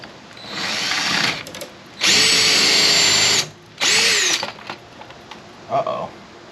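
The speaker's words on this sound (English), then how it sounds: "I'm going to try to drill a hole through the back" A power drill bores a hole through the back of a wall-mounted spot for an INQMEGA security camera, several loud whining bursts of the motor starting and stopping, with pauses between runs and a brief short rev at the end.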